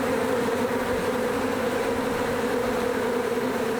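An agitated colony of thousands of honeybees produces a dense, unbroken buzz that stays close and loud throughout.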